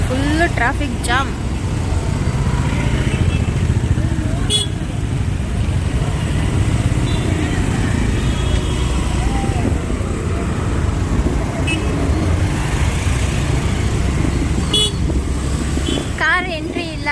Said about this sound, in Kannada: Traffic jam.